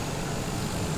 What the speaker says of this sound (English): That airplane just landed